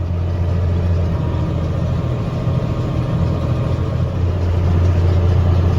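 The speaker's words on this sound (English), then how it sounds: "So right now it's wrapping the bale." An orange tractor powers a bale wrapper as it wraps a hay bale, giving a steady, loud, low engine drone that runs unbroken throughout with no voices.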